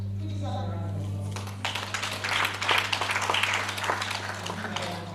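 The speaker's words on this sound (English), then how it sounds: "Please have a round of applause." An audience at a university business school event breaks into scattered clapping that builds over a steady low hum, with a voice speaking at the start.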